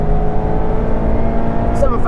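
A Mazda MX-5 engine revs hard and steady to about 7,000 rpm on a race track, loud and close, with a slight shift in tone near the end as it changes up a gear.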